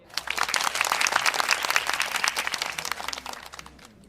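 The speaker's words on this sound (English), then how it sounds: "A round of your loudest applause for the winner of the STX tonight" A crowd gives loud, dense applause for the winner of a Buffalo STX vehicle auction in a GTA roleplay game event, a continuous crackling burst of clapping lasting about four seconds before tapering off.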